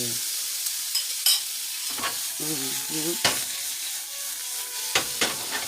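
A tomato and onion mixture stirred in a frying pan, with a steady sizzle underneath and several sharp scraping strokes of the utensil against the pan, close and alone.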